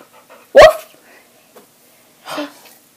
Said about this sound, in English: Can you say woof? Woof?